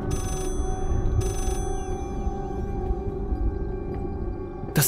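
Old telephone ringing in the horror game Layers of Fear, two loud bursts of shrill bell ringing a second apart over a low droning ambience, followed by a lingering tonal hum.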